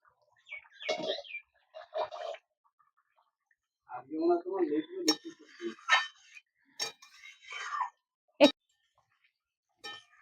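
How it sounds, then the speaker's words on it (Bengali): Utensil clinks and scrapes against a pot while echor chingri, a Bengali jackfruit and prawn curry, is stirred, a few sharp metallic taps spaced among a woman's speech. "একটু নাড়াচাড়া করে দিলাম"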